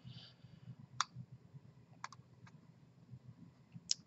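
A few sparse mouse clicks while working in CAD software, sharp isolated ticks spaced over a few seconds in a quiet room with a low background hum.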